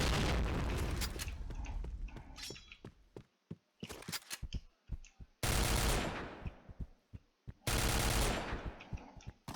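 Gunfire in the shooter game Point Blank comes in loud close bursts of automatic fire with scattered single shots and pauses between volleys.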